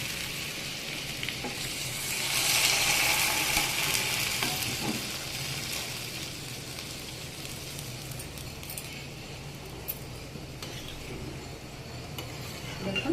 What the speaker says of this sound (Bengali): এবারে আমি এটাতে জল দিয়ে দেবো